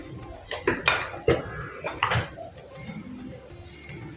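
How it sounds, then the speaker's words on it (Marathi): A spoon scrapes and clinks against a bowl as chivda spice mix with turmeric is stirred, giving a few close, irregular metallic taps and scrapes in a quiet room. "आता हा सगळा आपण चमच्याने व्यवस्थित एकजीव करून घेऊया मिक्स करून घेऊया"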